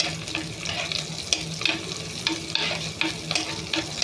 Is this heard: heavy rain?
no